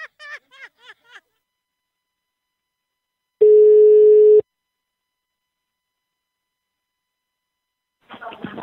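A telephone busy signal: a short burst of chirpy tones, then a single loud steady beep lasting about a second, followed by silence and a brief stretch of noisy sound at the end.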